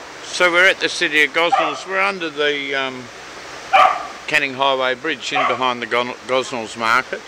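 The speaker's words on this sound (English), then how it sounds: "You can hear the dogs in the background having a bit of a swim." Dogs swimming in a river under the Canning Highway Bridge in Gosnells yip and bark in the background, mostly beneath someone talking close to the microphone outdoors.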